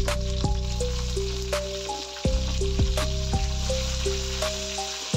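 Onions hit hot oil while a Nellore fish curry is cooked, giving a steady hiss of frying that runs under louder background music for the whole stretch.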